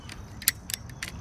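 A rifle scope turret being adjusted gives a few sharp, faint mechanical clicks spaced irregularly over about a second, close up and quiet against a low background hum.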